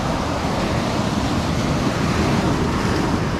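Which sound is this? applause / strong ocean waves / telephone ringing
strong ocean waves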